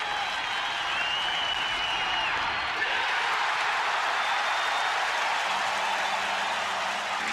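A ballpark crowd at a 1992 Red Sox baseball game cheers as a Red Sox pitcher sets a save record, producing a steady, even roar of cheering and applause that holds unbroken throughout.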